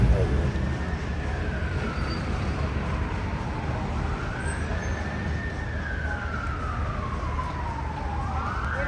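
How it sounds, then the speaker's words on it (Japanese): An ambulance siren wails in long rising and falling sweeps over steady road and engine rumble in a Beirut street, fairly close and loud. "救急車があるですね。"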